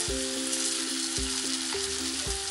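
Onions and tomato sauté in a pan for spicy egg chilli, giving a steady loud sizzle with a spatula scraping and stirring about every half second. Nobody speaks.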